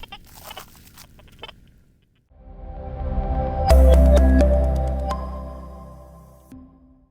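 An XP Deus 2 metal detector picking up electrical interference beneath power lines, giving off a busy stream of pips, squeaks and warbling tones over a steady hum that swells loudly midway and then fades.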